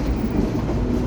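Inside the Sembrani Luxury passenger train, a steady, loud low rumble of the carriage rolling on rails fills the space with no clear breaks.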